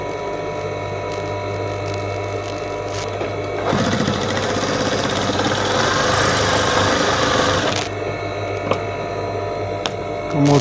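A sewing machine stitching a window curtain runs in a fast, even mechanical whir for a few seconds, with quieter clicking and handling noises before and after.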